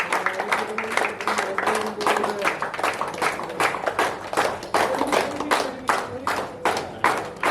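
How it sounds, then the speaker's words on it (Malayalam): Audience at a Lions Club installation ceremony claps on and on, a continuous run of sharp hand claps with a voice talking over the start. "കൈയടി നിർത്താതെ കൈയടി വയ്ക്കണം"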